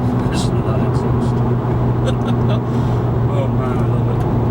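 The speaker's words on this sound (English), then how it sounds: "Listen to that exhaust." A 2016 Subaru WRX engine rumbles loudly and steadily, its deep exhaust note droning close by with slight rises, while a person talks over it.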